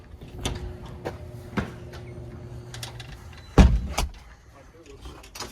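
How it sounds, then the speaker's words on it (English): An apartment door in New York thuds shut sharply midway, preceded by a few scattered clicks and knocks, with a low hum in the background. "Yeah, let me shut the door for you."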